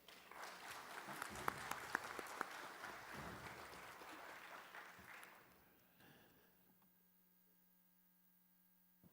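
An audience at a public legislative hearing claps for about five seconds, a crowd of hands with a few sharper close claps over a low hum, before the applause thins and dies away into near silence.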